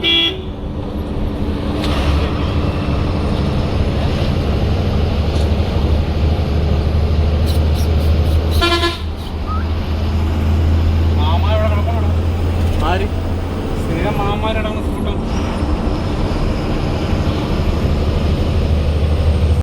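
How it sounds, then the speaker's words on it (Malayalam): A bus on a test drive after workshop repairs, its engine droning loudly and steadily with road noise, a horn toot and brief interruption near the middle, while people talk aboard. "അപ്പോൾ നേരെ ഇനി അവരൊന്ന് വണ്ടി ഓടിച്ചു നോക്കാൻ വേണ്ടി കൊണ്ടുപോവാണ്."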